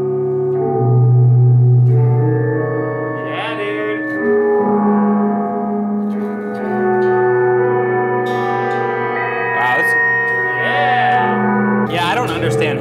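A spring reverb unit driven into feedback rings with sustained, layered tones that swell and smear together, loud and continuous, with bursts of splashy metallic noise at moments and a voice briefly heard.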